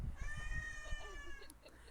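A cat lets out one drawn-out, wavering meow up close while thumping and handling noises sound underneath.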